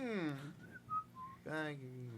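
A person whistles a few short, clear notes, set between brief voiced sounds at the start and end.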